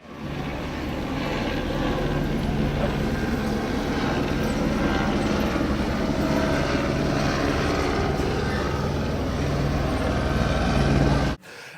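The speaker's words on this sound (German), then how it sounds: "Also zuerst der Helikopter, dann die Polizei" Police helicopter hovering overhead in a residential neighbourhood, a continuous loud rotor and engine drone that holds steady for the whole stretch before cutting off abruptly, with no talking.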